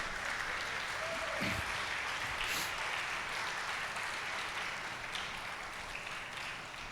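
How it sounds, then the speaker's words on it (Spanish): A church congregation at a Spanish-language service applauding, a steady even roar of clapping heard from a distance that holds throughout and softens slightly at the end, with faint voices mixed in. "Le damos un aplauso al Señor."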